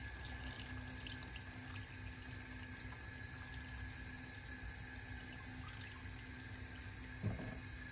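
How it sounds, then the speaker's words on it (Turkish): Sumac water pours into a pot of stuffed dolma, a steady close trickle and splash of liquid that runs unbroken, with a faint knock near the end and no talk. "Sımak suyunu ekleyelim."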